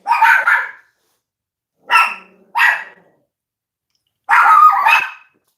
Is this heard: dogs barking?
yes